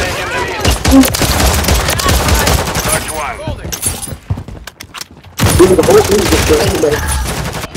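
Call of Duty Modern Warfare III multiplayer gunfire rattles in loud, dense bursts of automatic shots, briefly falling quiet before another heavy volley, with in-game voices mixed in.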